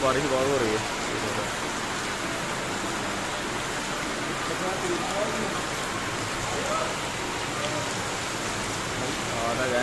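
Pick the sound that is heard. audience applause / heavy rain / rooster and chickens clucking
heavy rain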